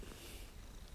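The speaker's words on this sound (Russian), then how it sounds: "Вы слышите это? Она мурлычет." A cat purrs in the Hogwarts Legacy video game, a steady low rumbling purr filling the whole moment without any talk.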